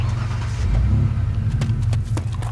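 A car drives in the survival video game DayZ, its engine giving a steady, loud, low rumble that swells slightly as it moves, with no talking over it.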